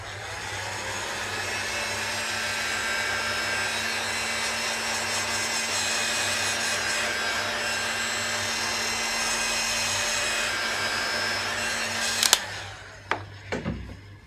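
Steady blowing whir of a heat gun shrinking heat-shrink tubing over a battery cable on a 1964 Mk1 Mini, continuous and fairly loud, then cutting off followed by a few sharp knocks.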